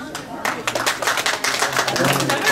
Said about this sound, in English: So who thinks it should be ERM? Clap.